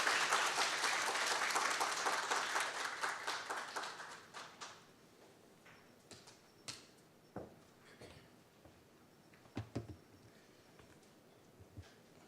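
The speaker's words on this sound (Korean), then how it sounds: "please join me in giving him a warm round of applause" Conference audience applauding warmly at a financial crime prevention forum, a dense sustained round of clapping that thins out after about four seconds into scattered isolated claps before fading.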